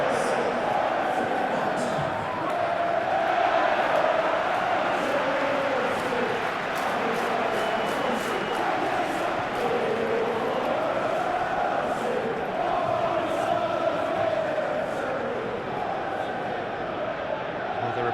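A capacity stadium crowd in the football game PES 2021 at Chelsea vs Wolves, a steady loud roar and chanting that swells and dips throughout, with commentary talk over it.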